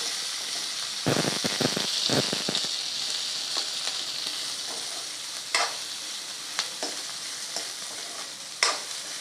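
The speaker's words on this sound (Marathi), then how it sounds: "कांदा व्यवस्थित परतून घ्यायचा आहे" Onion sautéing in a pan after ginger and garlic for a drumstick vegetable curry, a soft continuous sizzle with a few sharp scraping stirs early on and scattered spatula clicks later.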